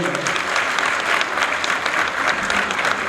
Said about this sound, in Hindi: मैं चाहूंगा जोरदार तालियों से आपका अभिनंदन।